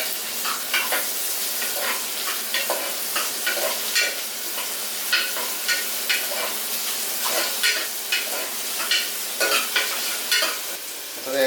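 Onion, ginger and garlic fry in a pan for a cooker rice dish, giving a steady bright sizzle broken by repeated scraping stirs of a spoon, close and fairly quiet with no voices.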